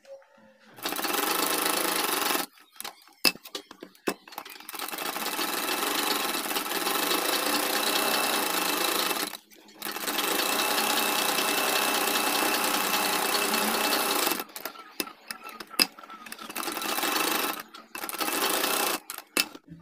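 A sewing machine stitches the edge of a shirt collar in long continuous runs of fast, whirring stitching. Short pauses between the runs carry small clicks and handling noises, and no one speaks.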